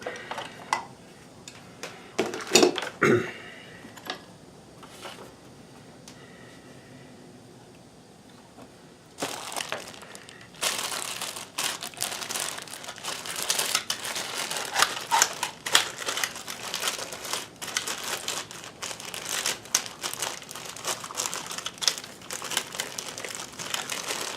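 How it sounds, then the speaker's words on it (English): A sewing machine's monogram adapter, for a Kenmore 158.1914 monogrammer, is worked out of a plastic bag, giving soft intermittent crinkles, then a quiet pause, then a denser run of loud crackling and rustling, all close to the microphone. "Doesn't want to come out of the plastic bag too easily"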